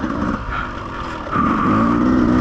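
A Beta 200RR enduro motorcycle ridden along a trail, its engine note droning and then climbing in pitch as it revs up, loud and close, with no talk.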